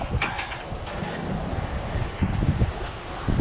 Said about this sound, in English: It's starting to pick up some gusts